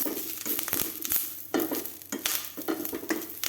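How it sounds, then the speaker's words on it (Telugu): Curry leaves sizzling and crackling in hot castor oil while being stirred in a pan, a steady close frying hiss with sharp pops and scraping bursts throughout. "ఇప్పుడు ఆ నూనెలో ఆముదంలో ఈ ఆకు వేసేసి పక్కన పెట్టుకుంటా. కరివేపాకు వేసాను."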